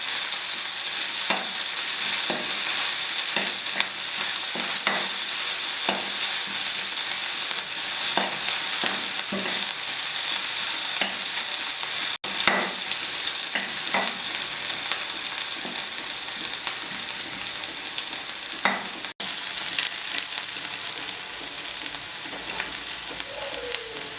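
Chopped onions fry in a pan for Nepali-style dal tadka, giving a steady dense sizzle broken by regular scraping stirs of the spoon, close and fairly loud with no talking.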